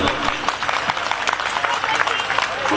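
Audience applause at a Marathi devotional poetry and song program, a dense continuous patter of many hands filling the whole stretch, loud and steady with crowd noise beneath.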